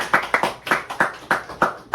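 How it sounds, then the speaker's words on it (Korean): A small group claps for a teacher at a social work practicum orientation, several sharp bursts of hand claps in an uneven rhythm, close and distinct with no talk over them. "일주일 동안 단장하느라 수고한 조 선생님 박수 한번 하겠습니다"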